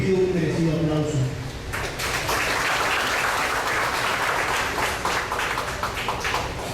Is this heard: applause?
yes